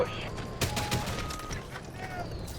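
Gunfire in the shooter game Delta Force, a dense run of overlapping shots and bursts over a constant rumbling background through the whole stretch, with players' voices talking over it.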